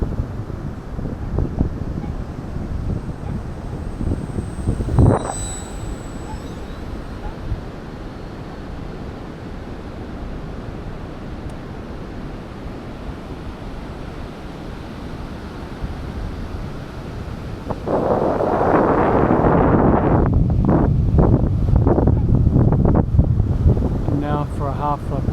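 Wind buffets the microphone outdoors in a continuous low roar with gusty swells, growing louder and rougher toward the end, with a brief bump partway through and a voice speaking underneath.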